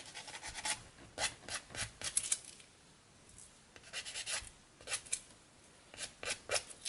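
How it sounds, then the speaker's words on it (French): A nail file rasps against the wheels of a 1/35 scale plastic Panzerbeobachtungswagen III model tank in short, close bursts of scratchy strokes separated by brief quiet pauses. "prendre les limes à ongles parce que ça évite de faire des plats. Voilà, je ponce"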